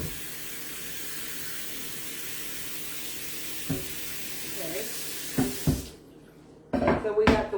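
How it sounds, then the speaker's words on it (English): A cutting board is rinsed under a running kitchen tap, a steady broad hiss of water lasting several seconds, followed by a few knocks and clatters as the board is handled and set down; a voice talks briefly. "Let me rinse off my cutting board."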